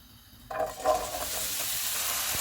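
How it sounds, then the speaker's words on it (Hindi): Potato pieces drop into a tablespoon of hot oil in a pan over a medium-high flame, setting off a sudden burst of sizzling that settles into a steady frying hiss. "ऑयल गर्म हो गया, इसमें आलू डालेंगे।"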